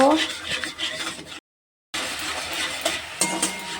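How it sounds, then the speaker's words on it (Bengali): Chilli and turmeric spice paste is stirred in a pan with rough, rubbing scrapes over a faint sizzle. A brief dead gap breaks the sound midway, then the scraping resumes close up. "লঙ্কার গুঁড়ো হলুদ গুঁড়ো অল্প একটু মশলার জলটা দিয়ে এবার ভালো করে একটু নেড়ে নেব"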